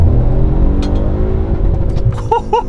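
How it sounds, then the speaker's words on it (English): A 2020 Audi RS4 engine revs hard to the rev limiter, a loud sustained rasping drone that stutters as it bounces off the limiter near the end, with no talk. "I love hitting the rev limiter in Audis."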